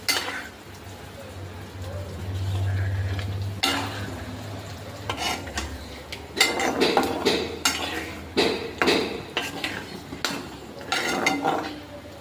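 Marinated chicken is stirred and fried in a pan while being cooked down for kosha, with a low sizzle, repeated scraping of a spatula, and clanks of metal against the pan at an irregular pace.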